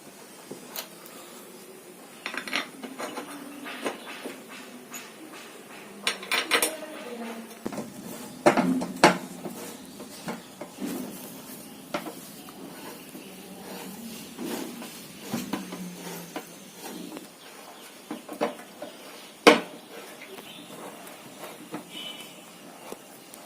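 Bolts are tightened onto the disc of a washing machine during a repair. Scattered metallic clinks, taps and scrapes sound up close at an irregular pace over a quiet background.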